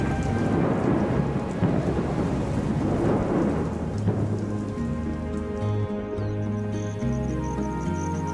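Heavy rain pours steadily across the savanna with deep thunder rumbling throughout, loud and continuous, while tonal music swells underneath toward the end.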